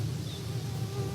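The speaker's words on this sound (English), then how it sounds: "That's a bug." An insect buzzes in a forest as a short, steady droning hum, close and moderately loud over a faint background, with no voices.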